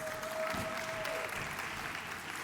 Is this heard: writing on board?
no